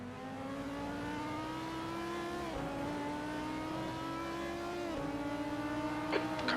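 Race car engine in a sim endurance race at the Nürburgring, a steady high drone climbing in pitch through gear changes as another car runs alongside on the left, continuous and close.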